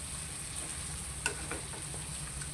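Chicken curry with coconut milk boils in a pot, giving a steady soft hiss and bubbling with a few small pops and clicks, at low to moderate level and with no talking.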